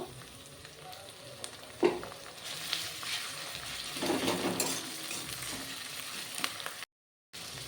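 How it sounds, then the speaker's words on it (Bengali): Rohu fish oil frying in a pan while making a sweet pumpkin dish, giving a steady soft sizzle with brief stirring clatters and a louder scrape near the start. "এখন ভালো করে ভেজে নেব আমি মাছের তেলটা আমি ভেজে নিয়েছি"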